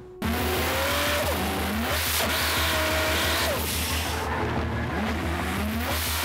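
A Nissan S14 pro drift car engine revs hard, loud and close, with rising and falling pitch sweeps, a steady pulsing throb underneath and intermittent tire squeal, continuous throughout.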